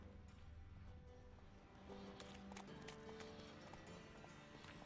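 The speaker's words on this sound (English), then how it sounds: "The horses are all in my way." Several horses clip-clopping on their hooves in The Witcher 3, a steady hoof rhythm over constant game background ambience, with no talking.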